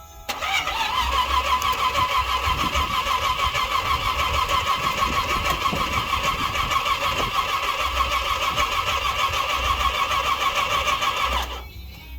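A 1967 Chevrolet Nova with a big cam cranks and fires up, its engine running loud and steady close by for about eleven seconds before cutting off, with no talking.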